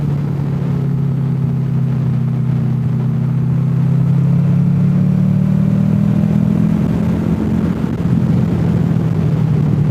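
A motorcycle carrying a passenger on the back cruises along a paved country road, its engine a steady, loud low drone that rises gently in pitch as it accelerates, with constant wind rush and no talking.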